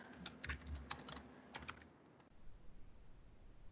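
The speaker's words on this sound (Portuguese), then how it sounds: "Peraí que eu digitei errado." A computer keyboard is typed on in a quick burst of light, close clicking keystrokes, with a last couple of taps before quiet room tone.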